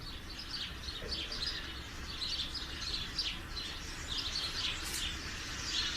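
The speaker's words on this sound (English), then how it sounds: "Birds." Birds chirp and call in repeated short bursts through the whole stretch, moderately near over a low steady ambient rumble, with no voices.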